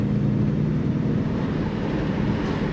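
A 1965 Ford Fairlane 500 with a 289 V8 runs on the road during a test drive, giving a steady, loud low rumble with broadband road noise and no talking.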